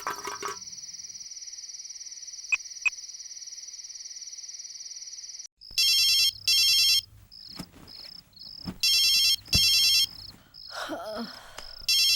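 A mobile phone rings with an incoming call at night in a Tamil film scene: a steady electronic tone, then a chirpy ringtone in repeated loud bursts.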